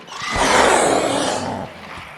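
A creature in the virtual reality game Robinson: The Journey lets out a loud, rough, broad roar, swelling and then fading over about two seconds, with no talking.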